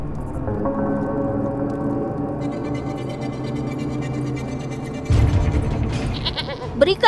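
A goat bleats in a dramatized period scene, a sustained wavering cry over a steady musical bed, followed by a louder burst of scuffling and movement near the end.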